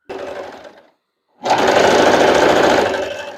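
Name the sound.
sewing machine sewing a straight stitch along a doll skirt edge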